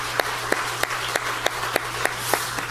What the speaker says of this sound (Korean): 우리를 위해서 부활하신 주님께 다시 한번 영광의 박수 올리길 원합니다.